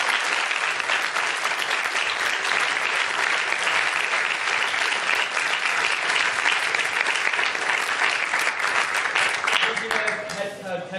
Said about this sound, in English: If we could first have a round of applause for all of our speakers.